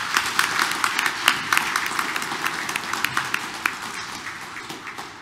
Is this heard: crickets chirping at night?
no